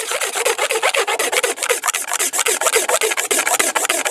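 A blade scrapes shavings off bamboo to make tinder for a bamboo fire saw, giving fast, rhythmic rasping strokes, close and steady, about two per second, with no talking.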